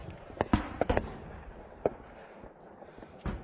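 Distant gunfire in a Ukraine war-zone setting near a small outpost: a handful of sharp, irregular cracks and thuds spaced over a few seconds, some in quick pairs, set against quiet outdoor background.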